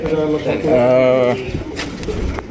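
Pigeons coo with soft, rolling calls at a busy wholesale pigeon market, close by and mixed with steady background chatter and people talking over them.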